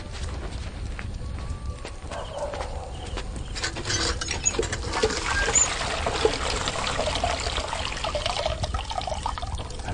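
Water pours and trickles steadily into a container, a continuous splashing flow with a faint rise in intensity partway through, amid outdoor background noise.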